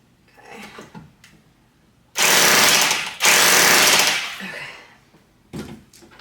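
A power drill grinds into a plaster and brick wall in two long, loud, rough bursts close by, with quieter handling noise before and a short final burst.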